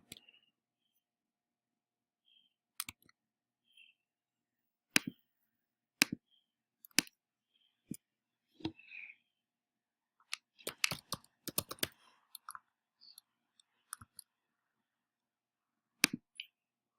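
Sparse, sharp mouse clicks at a computer while building an iOS app, isolated close ticks spaced seconds apart with a quicker cluster midway, otherwise near silence.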